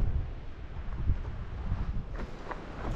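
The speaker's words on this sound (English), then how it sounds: "Probably not the best day to go to the coast where it's as windy as it is today." Strong coastal wind buffets the microphone in low, uneven rumbling gusts that sound close and fairly quiet, with faint higher rustles near the end.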